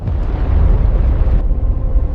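A giant asteroid impact explosion rendered as a loud, sustained low rumbling roar with crackling texture, continuing without pause and without any voice over it.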